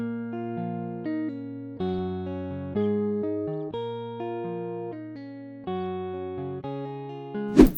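A guitar melody pitched down three semitones in FL Studio plays as clean, sustained notes moving in a steady rhythm, heard alone until a brief noisy burst at the very end.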